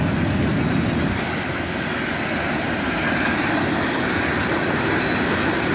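A freight train led long hood forward by an SD42 diesel locomotive, originally built for Burlington Northern in 1980, rolls past close by with a steady, loud, continuous rumble and rail clatter throughout.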